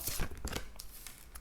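A cat shreds cardboard: quiet, scratchy tearing in short bursts, faint and nearby.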